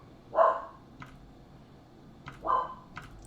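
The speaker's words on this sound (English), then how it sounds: "I really wish my dogs would stop barking." Dogs indoors give two barks about two seconds apart, fairly faint and a little distant, with small taps and clicks between them and no speech.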